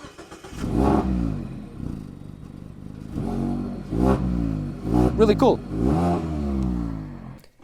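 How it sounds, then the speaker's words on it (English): A naturally aspirated 4-cylinder gas engine in a Mazda MX-5 Miata convertible revs in repeated rising bursts, close and fairly loud, with someone talking over it. "This is a naturally aspirated engine, a 4-cylinder gas engine, and it sounds amazing."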